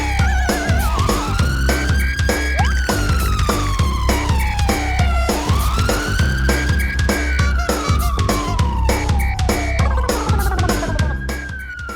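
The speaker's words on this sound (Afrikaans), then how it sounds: "Sirene is aan, gereed om te gaan." A fire engine leaving a fire station sounds its wailing siren, loud and continuous, rising and falling in long sweeps. Music and clinking play along with it.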